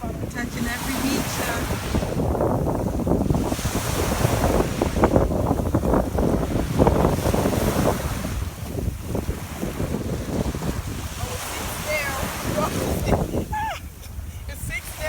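Surf washing onto a beach on St. Thomas, a steady loud wash of waves with heavy wind buffeting the microphone throughout, and voices speaking over it.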